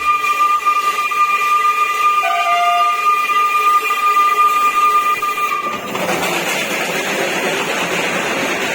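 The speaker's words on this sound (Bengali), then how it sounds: "দেখা মিলল ভারতের গর্ব হেরিটেজ ট্রেনের স্ট্যাটাস পাওয়া স্টিম ইঞ্জিনযুক্ত টয় ট্রেনের" A Darjeeling heritage steam-engine toy train's long, steady whistle sounds for several seconds, then gives way to a loud, continuous hiss and rumble from the engine.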